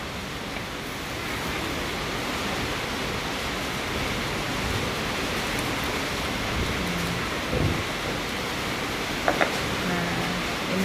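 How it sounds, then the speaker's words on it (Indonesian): Steady broadband rain pours throughout, with a low rumble of thunder swelling briefly near the middle and a couple of sharp knocks close to the end. "Ya Allah, ada petir."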